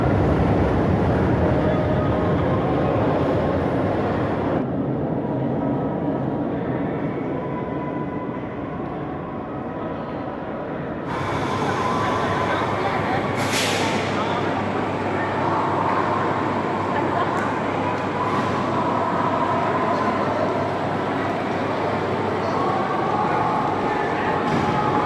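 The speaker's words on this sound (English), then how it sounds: "this subway station is just absolutely mind-blowingly beautiful" Station ambience deep in the Pyongyang metro, a steady broad rumble of trains and crowd murmur that dips quieter midway before swelling again, with a brief squeal near the end.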